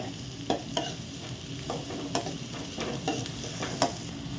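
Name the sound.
onions being stirred and sautéed in a pan for mutton fry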